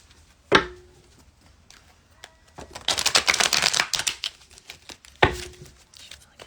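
Tarot cards are shuffled in a dense, crackling riffle burst mid-clip, set between two sharp taps of the deck, with quiet handling rustles around it.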